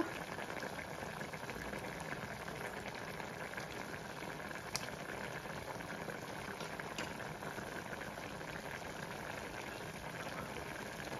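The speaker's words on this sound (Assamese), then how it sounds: "আৰু এতিয়া চাব পাৰে উতলিছে" Taro flowers cooking with meat boil in a pot with a steady, dense bubbling that holds even and unbroken throughout, close and fairly quiet, with no voices.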